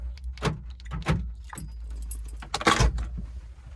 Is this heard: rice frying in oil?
no